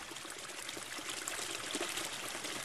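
River water in the village of Cuzcurrita, flowing steadily in a continuous broadband rush and trickle, close and unbroken, with no voices.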